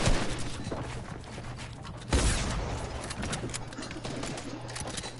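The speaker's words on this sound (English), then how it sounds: "the teammate is just taking shots at walls with his shotgun" Shotgun fired at walls in Fortnite: a single sharp blast about two seconds in, cutting through a busy, noisy game background, close and loud.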